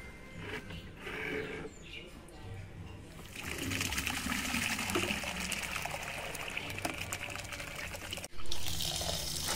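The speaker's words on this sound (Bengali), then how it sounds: "আমি কুমড়োটা এভাবে করে টাইম কলের জলে খুব ভালো করে কচলি ধুয়ে নেব।" Tap water runs steadily over a pumpkin as it is rubbed and washed by hand, a continuous close splashing trickle that grows fuller midway, with a brief pause near the end.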